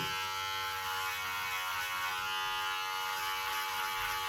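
An electric beard clipper buzzing steadily as it trims a beard, a constant close, bright motor whine with no pauses.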